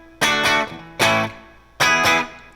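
Three clean electric guitar strums on a 1983/84 Kramer Focus 3000 through its single-coil pickup ring out dry with no effects or reverb, each chord decaying before the next, close and fairly loud.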